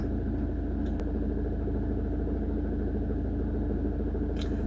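A car engine idles steadily with a low, even rumble, close and continuous, before being shut off; there is no talk over it.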